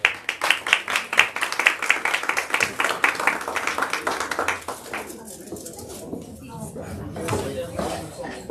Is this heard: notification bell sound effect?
no